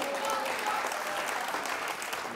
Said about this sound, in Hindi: जिनको लगता है हीरा खान जीती, वो तालियां बजाएं।